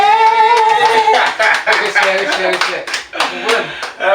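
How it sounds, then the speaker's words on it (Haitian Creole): A small group claps by hand, a fast burst of applause that grows denser and louder, with voices talking and chuckling over it. "Applaudis."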